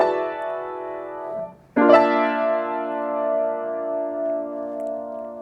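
An orchestra playing John Adams' Short Ride in a Fast Machine, with the strings except the double basses joining for the first time: a held chord cuts off, then a fuller, richer sustained chord enters loudly and rings on.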